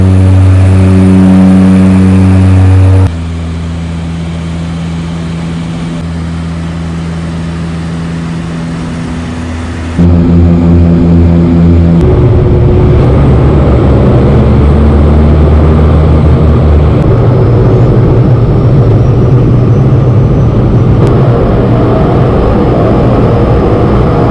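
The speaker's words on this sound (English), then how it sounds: "about to hop on a very little plane to fly across to Segei" Small propeller plane on a short island-hopping flight across the Solomon Islands from Honiara, with a steady loud engine drone and humming tones that change pitch and roughen partway through, as if power is being raised.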